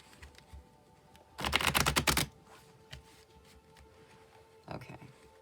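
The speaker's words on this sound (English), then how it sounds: "I will shuffle until I feel like the deck is ready" Tarot cards riffle-shuffled in one short, sharp burst of rapid clicking flutter up close, followed by a quieter brief shuffle later, over a faint low room hum.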